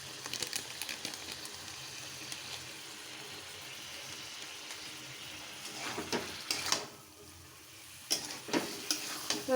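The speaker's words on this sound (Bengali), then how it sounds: "ভালো করে কষাতে হবে মাংসটা।" Chicken pieces sauté with salt and chilli powder in a curry pan, a faint steady sizzle under quiet stirring. Louder scraping bursts come late as the meat is turned.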